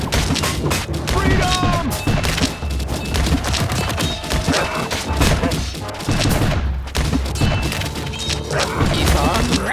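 Kingdom Rush musket towers fire volleys in the Rotten Forest level, heard as dense crackling gunfire and booms over busy game music, while a character voice shouts a short line.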